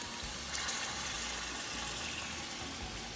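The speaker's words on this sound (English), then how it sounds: "I'm adding the beef stock" Beef stock poured steadily into a pot of egusi soup, a continuous broad watery rush at close range lasting the whole moment, with no talking over it.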